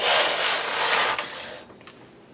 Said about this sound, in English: I'm going to bring out a stitch on each end and then knit across